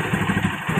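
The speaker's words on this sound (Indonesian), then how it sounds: "tanpa susah payah, mesin langsung hidup teman-teman ya. Dan langsung langsam" Yamaha Jupiter MX motorcycle engine just started and settling into idle, a close, steady low putter with rhythmic pulsing and light mechanical clatter, heard alone.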